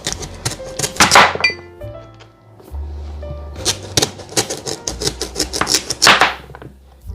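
A knife chops through yams on a cutting board in bursts of sharp, close taps, with short pauses and faint background hum between the rounds of cutting.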